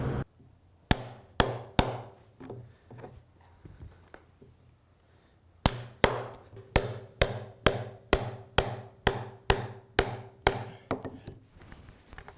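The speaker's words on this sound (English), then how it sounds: "I'm gonna bust out the 2 hammers now and see what I can get" Two hammers striking buried metal in the ground, sharp ringing metallic blows in uneven bursts, several spaced hits and then a rapid steady run of about a dozen strikes, each decaying quickly, with no voices.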